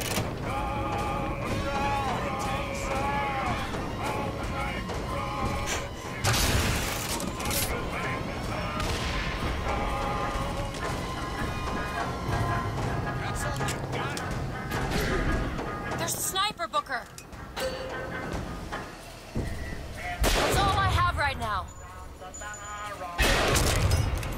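Scattered gunshots and booms ring out in the shooter BioShock, sharp bursts punctuating a busy scene with a person talking over much of it.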